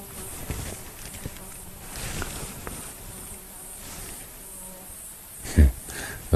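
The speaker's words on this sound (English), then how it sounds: "The flies are now buzzing around me because there's no lionesses to bother." Flies buzz steadily around a person out on a live safari drive, close by and droning, joined by a couple of brief thumps near the end.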